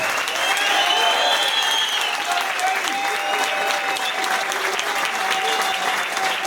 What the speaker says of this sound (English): can I get a massive round of applause for Mr. Denis Irwin